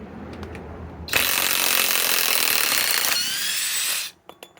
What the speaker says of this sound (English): Okay, now let's remove the one the DEWALT put in.